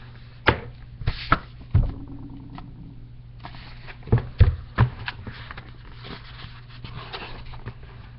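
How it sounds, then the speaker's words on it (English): Truffula trees being chopped in an animated story, with sharp wooden chopping thunks landing irregularly, some single and some in quick pairs, fairly close and crisp over a quiet hum. "to the sound of chopping of truffula trees"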